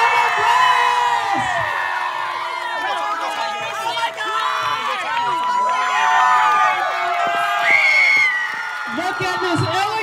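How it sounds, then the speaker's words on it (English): A crowd at a Pride prom cheers for the prom queen winner with loud whoops, shouts and scattered clapping, close and lively, while an announcer speaks over the noise. "Let's turn it into applause. Let's get some claps."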